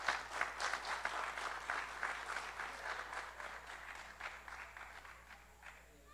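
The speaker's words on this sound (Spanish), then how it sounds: "Le damos un fuerte aplauso a don Fidel Portugués Portugués." Audience applause at a marimba festival tribute to marimba players, a dense crowd clapping that starts strong and gradually thins and fades over six seconds, with no voices over it.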